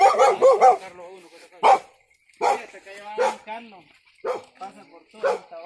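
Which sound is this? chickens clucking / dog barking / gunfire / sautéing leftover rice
dog barking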